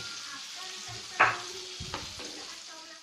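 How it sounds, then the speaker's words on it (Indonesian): Floured chicken frying in a pan gives a steady sizzle, broken by a sharp scrape and clatter as the pieces are flipped, then a few softer knocks. No one speaks. "Jangan lupa dibolak-balik ya, biar nggak gosong ayamnya."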